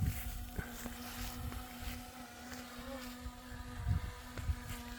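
A small camera drone hovers and flies near a landing pad, giving a steady close propeller whine with a constant buzzing tone throughout and faint handling knocks in the background.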